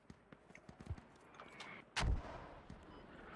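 Mortar fire in the military shooter Squad: scattered distant thuds and pops build to one heavy, loud impact near the middle, followed by lingering rumble and further faint shots.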